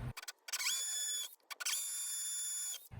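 A power drill bores into brick with a hollow core while a security camera is mounted, giving two whining bursts of the motor separated by a brief pause.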